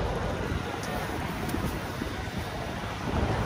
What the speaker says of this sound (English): it is pretty windy and pretty cold.